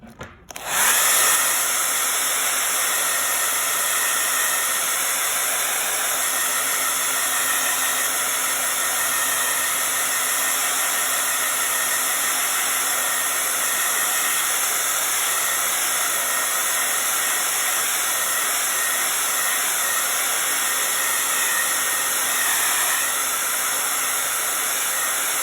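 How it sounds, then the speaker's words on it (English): A blow dryer runs steadily to dry a fresh coat of paint, a loud, continuous close-up whoosh that switches on at the start and holds unbroken for the full length with no talking. "I'm just gonna blow it dry quick and I'll give it another coat."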